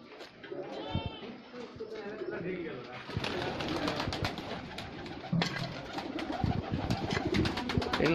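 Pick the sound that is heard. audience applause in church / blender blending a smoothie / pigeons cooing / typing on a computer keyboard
pigeons cooing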